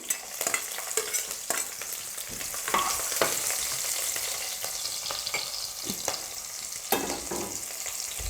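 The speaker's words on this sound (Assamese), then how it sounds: "একেখিনি মই একেখন কেৰাহীতে ভাজি দিছোঁ।" Onions frying and being stirred in a kerahi wok for an Assamese fish curry, a steady close sizzle broken by repeated scraping strokes of the spatula throughout.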